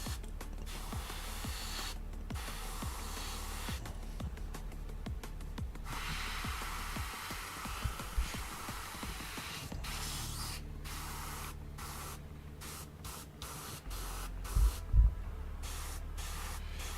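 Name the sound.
spray paint being sprayed onto a model part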